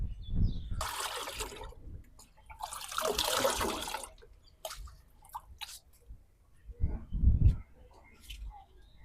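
Water poured from a mug into a large plant tub, quick splashing gushes in short bursts with quiet pauses between, close and moderately loud.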